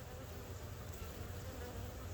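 Honeybees buzzing steadily around an open hive during a swarm inspection, a dense, continuous drone held at an even, close level for the whole moment with no talk.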